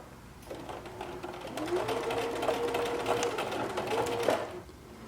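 A sewing machine stitches a hem on knit fabric backed with fusible interfacing, a steady close mechanical whir that rises in pitch once the motor reaches speed, running for several seconds before stopping.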